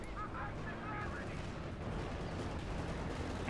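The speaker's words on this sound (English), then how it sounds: "He's calling artillery on the Panther" Artillery barrages pound away in Company of Heroes 2, continuous rumbling blasts and gunfire layered densely together, loud and sustained across the whole stretch.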